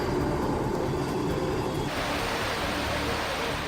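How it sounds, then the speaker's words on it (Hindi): Heavy monsoon downpour in Mumbai, a steady dense roar of rain with no breaks that shifts in tone partway through, like the sound of water pouring onto a flooded street. "मुंबई में मूसलाधार बारिश हो रही है।"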